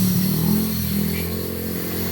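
A Honda RS 150 motorcycle engine idles nearby with a steady low rumble and a fast, even putter, loud and close, with no voices over it.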